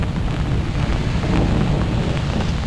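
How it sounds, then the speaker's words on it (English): Steady, dense rain falling outdoors with a low wind rumble, continuous and fairly loud throughout, no voices. "Not raining near as hard as it was."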